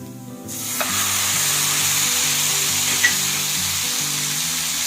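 Boneless chicken pieces sizzle loudly in a hot pan for a Kerala-style chicken stir fry (thoran), a dense steady frying hiss that kicks in as the meat lands, with a couple of faint utensil taps.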